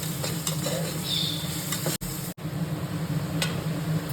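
Onions sautéing in a pan for mutton biryani, cooking toward golden brown, a steady soft sizzle with occasional stirring scrapes and a couple of brief breaks.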